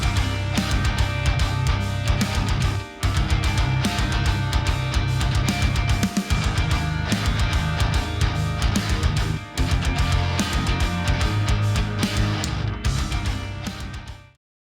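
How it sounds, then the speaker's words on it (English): Double-tracked clean electric guitars sit inside a dense modern metal mix with drums, playing loud and continuous for about fourteen seconds, with brief dips before the sound cuts off; no one speaks. "These guitars are double tracked and they sound like this in the mix."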